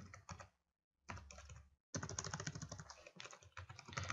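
An Nmap command is typed on a computer keyboard in quick, close bursts of key clicks with brief pauses between them, quiet and without speech.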